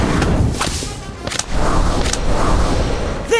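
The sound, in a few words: Incendio fire spell in Harry Potter video game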